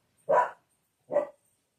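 A dog barks twice at neighbors next door, two close, loud single woofs separated by a short pause in an otherwise quiet room.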